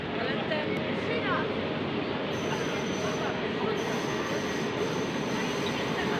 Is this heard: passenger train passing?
yes